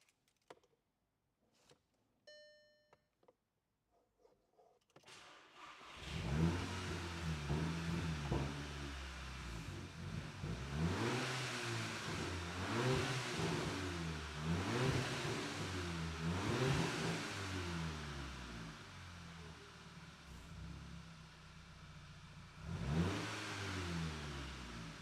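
A Volkswagen Eos engine starts after a few faint clicks, then idles and revs repeatedly in rising and falling surges, close and loud, with no one speaking.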